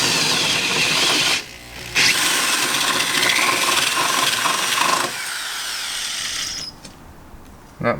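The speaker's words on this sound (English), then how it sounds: "let's just drill out our holes for our switches" A power drill whines and grinds steadily, drilling switch holes in a Jeep CJ, loud and close, with a brief pause before drilling resumes and then winds down.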